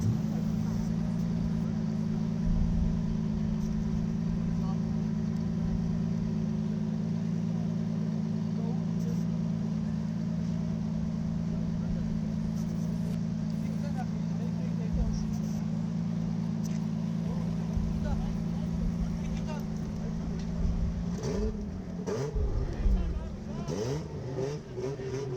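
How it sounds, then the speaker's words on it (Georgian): A drift car fires up at the 2023 King of Drift final: a steady droning idle hum holds for a long stretch, then the engine revs up unevenly near the end, with a commentator talking over it. "მეულოდის მანქანა დაიქოქა"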